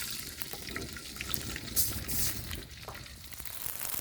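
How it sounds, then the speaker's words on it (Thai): Fish sauce poured into a pan while stir-frying snakehead fish with ginger, a soft liquid splash and trickle over steady low sizzling and kitchen clatter, close and moderately quiet. "ต่อไปก็ใส่น้ำปลาลงไปพอประมาณนะครับ"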